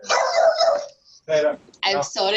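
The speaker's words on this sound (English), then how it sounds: "just you can hear my dog there in the background." A dog barks and yips in the background at home, several short sharp barks interleaved with a person talking over them.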